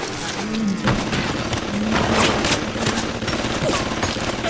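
Automatic turret fire in BioShock Infinite, a dense, continuous fusillade of rapid shots with no gaps, sounding close and steady throughout.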